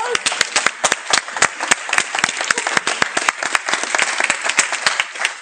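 An audience at a talk on emotional intelligence and entrepreneurship applauds steadily, dense overlapping claps forming a loud, continuous burst of clapping with a few sharper individual claps standing out.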